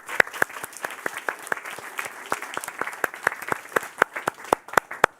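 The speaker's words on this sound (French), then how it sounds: "On peut les applaudir." A small audience at a family celebration claps in a sparse, uneven burst: individual sharp hand claps rather than a dense roar, fairly close and moderately quiet, continuing steadily for about five seconds.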